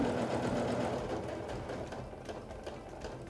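A sewing machine stitching standard quilt binding, running in a fast, steady mechanical whir with rapid needle chatter, close and continuous for a few seconds with no talking.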